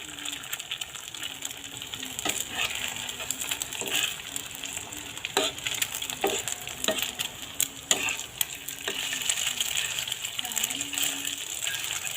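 Egg poured over fried onions in a hot wok, sizzling steadily with repeated sharp spatula clinks and scrapes against the pan throughout.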